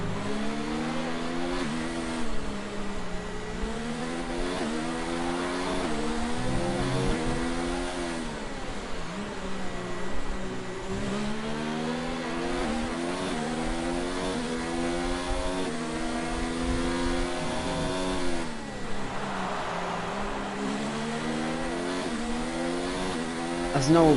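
Race car engines in a racing video game on a Brazil circuit, a steady high engine drone rising and falling through gear changes and laps, layered with several cars and commentary voices throughout.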